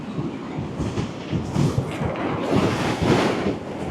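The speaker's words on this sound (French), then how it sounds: "je vous dis pas les vagues qu'il y a" Loud, continuous roar of heavy surf and big waves at the seaside, mixed with strong wind buffeting the microphone in surging gusts, close and dense throughout.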